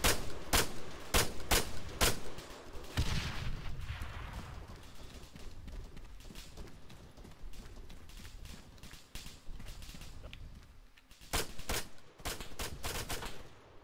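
Gunfire in the video game ArmA 3, during a team-versus-team multiplayer battle: clusters of sharp, loud shots near the start and again late, separated by a stretch of quieter, rumbling distant firing.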